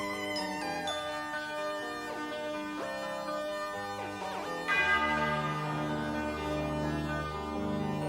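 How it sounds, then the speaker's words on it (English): Large tubular bells ring in a rock album track, their sustained, stately tones layered within the band's music and swelling louder partway through. "They give a stately sound, don't they? Those big, tall bells."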